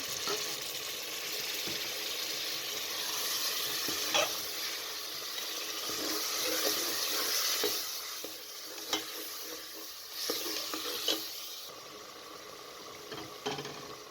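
Ground tomatoes added to a frying chicken salan masala give a steady broadband sizzle with occasional stirring clicks and scrapes, close and moderately loud, no voices.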